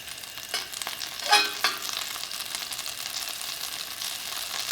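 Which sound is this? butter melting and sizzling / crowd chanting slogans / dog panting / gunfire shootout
butter melting and sizzling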